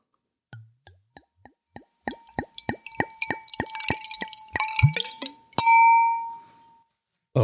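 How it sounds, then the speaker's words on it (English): Red Cabernet Franc 2017 wine poured into a glass: a few soft drips and clinks of the bottle against the glass, then a steady gurgling pour, with a brief rushing splash near the end. "I'm going to go ahead and pour myself some."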